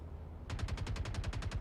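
Gunfire into a locked object in the video game Star Citizen: after a moment of quiet, a fast, even string of about a dozen automatic shots rings out close and sharp.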